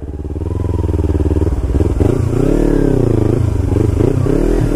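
A 2016 Kawasaki Ninja 300 engine revving loudly up close, the pitch climbing, dipping and climbing again in repeated throttle blips.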